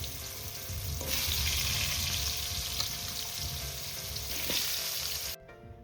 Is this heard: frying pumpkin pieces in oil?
yes